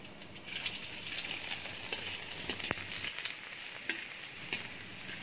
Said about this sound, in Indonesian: Tumiskan bawang putih.